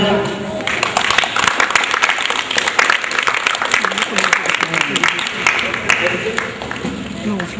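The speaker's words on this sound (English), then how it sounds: "Please clap for them." Audience at an international school event in Riyadh clapping, a loud, sustained mass of claps with crowd noise and voices talking over it throughout.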